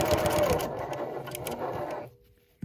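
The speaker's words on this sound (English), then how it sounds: "So we're going to take a couple of stitches in reverse to set those stitches and just sew along the edge." A sewing machine stitches along the edge of upcycled denim jeans, a close, rapid mechanical whirr for about two seconds before stopping, then a single soft click.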